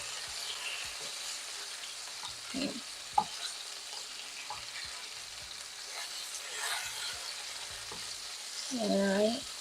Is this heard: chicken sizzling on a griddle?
yes